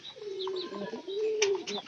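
Pigeons in a loft give soft, repeated low coos, close and clear, with a few faint chirps and rustles in the background.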